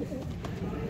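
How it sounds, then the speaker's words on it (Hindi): A blue pigeon coos softly and low, a short murmuring call close by. "एक ये नीला कबूतर,"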